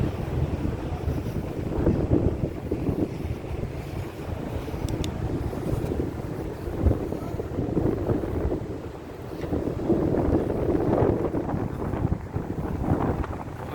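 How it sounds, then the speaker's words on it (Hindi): A cool wind blows at Masjid al-Nabawi in Madinah: a continuous low rumble and buffeting that swells and eases across the whole stretch, loud against the microphone, with no talk. "बहुत प्यारी हवा चल रही है, बहुत प्यारी माशाअल्लाह, ठंडी और बहुत प्यारी हवा चल रही है।"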